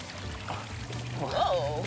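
Water pouring and trickling through the tubes of a toy water fountain, a soft continuous splash that swells slightly toward the end while a voice talks over it.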